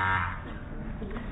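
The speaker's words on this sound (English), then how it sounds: "You mustn't buzz in if you don't know." A contestant's buzzer on a radio quiz panel show, recorded before a live audience in Guildford in 1999, gives one loud, harsh electronic tone at the start, then fades into murmuring hall noise.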